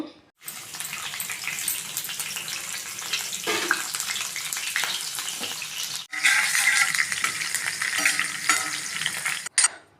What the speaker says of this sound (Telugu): ఒక స్పూన్ తాలింపు గింజలు అర స్పూన్ జీలకర్ర అయితే వేసాను